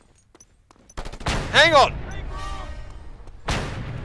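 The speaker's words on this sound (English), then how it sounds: "I will take this rifle, and I will shoot something until it explodes" Rifle gunfire in the Just Cause 2 video game: loud, sharp bursts of shots at the start and again near the end, with someone shouting over the action.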